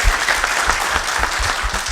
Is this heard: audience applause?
yes